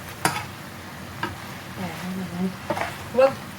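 Chicken and fresh basil stirred in a hot pan for a Thai dish, a steady sizzle with several scraping strokes of the spatula and a few clicks, close and moderately loud.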